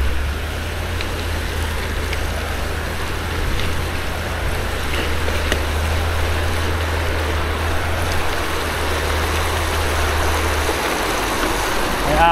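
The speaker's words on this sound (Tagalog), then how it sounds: "First river crossing." River water rushes steadily during a gravel bike crossing, a continuous broadband flow over a low rumble that lasts throughout.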